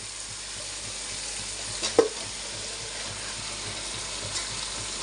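Chicken tossed into frying spice masala and stirred in a pan for chicken bhuna, a steady sizzle with a brief scraping clatter of the spoon partway through, close and moderately loud, nobody talking.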